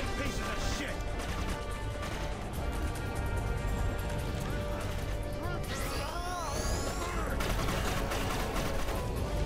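Dense, rapid video game gunfire crackles and bursts in heavy volleys with crashes and ricochet-like whines, loud and continuous, while people talk underneath.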